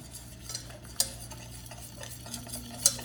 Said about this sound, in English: And you just mix it up.